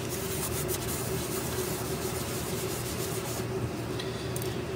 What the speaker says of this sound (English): We want to clean our surfaces first. I'm using a little rubbing alcohol here.